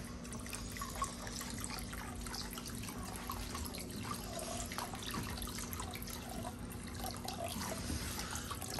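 Water runs steadily from a hose onto PVC piping with no shutoff valve, a faint, continuous trickle and splash with small irregular drips and no talking over it.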